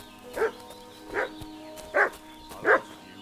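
A dog barks in Kingdom Come Deliverance 2, four evenly spaced single barks standing out at moderate distance over a quiet ambient game background.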